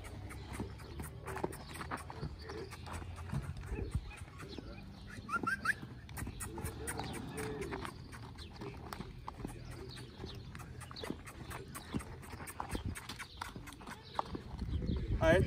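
Rhythmic clip-clop of horse hooves circling at a steady pace on soft ground as a horse is lunged on a ranch, with occasional snorts and voices talking nearby.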